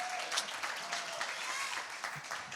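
Applause from a showcase audience for a performer, a modest, continuous patter of clapping at moderate distance, fairly quiet and sustained.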